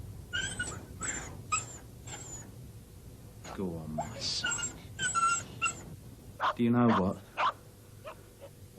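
A dog barks and whimpers in short repeated bursts, close by, with a voice speaking over and between the yelps.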